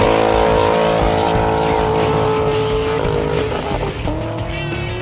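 A 2019 Nissan Titan Platinum Reserve with a Flowmaster True Dual exhaust and K&N cold air intake roars loudly and steadily, with a deep engine drone and tire noise close by.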